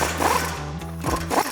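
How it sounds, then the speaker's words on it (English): An impact wrench fitted with a 39 mm 12-point socket removes the axle nut on a Toyota Tundra, giving a close, loud rattling hammer in two short bursts separated by a brief pause. "Now we're gonna grab our impact, and we have a 39 millimeter 12-point socket."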